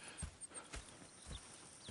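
Horse hooves clip-clop in the video game Red Dead Redemption 2, a few close, distinct thuds spread across two seconds with a faint whinny-like tone and no talking.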